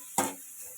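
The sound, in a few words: capsicum sautéing in a pan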